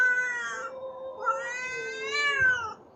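A cat meows and caterwauls up close, several drawn-out, wavering cries running back to back, loud and clear with no speech over them.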